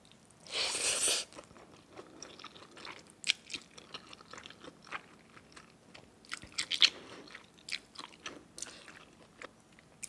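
Close, crisp crunching and chewing of spicy Thai pounded salad made with chicken feet and cha-om, irregular bites and squishy mastication, loud up front, then repeated softer crunches with no talking.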